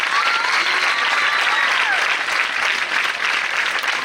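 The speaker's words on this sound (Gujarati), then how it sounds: "જોરદાર તાળીઓથી" An audience at a school event claps loudly and continuously to honour a building mason, a dense, sustained round of applause with no speech.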